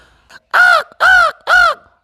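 A voice imitates crow cawing, giving three loud, harsh caws in quick, even succession, very close and with nothing else behind them.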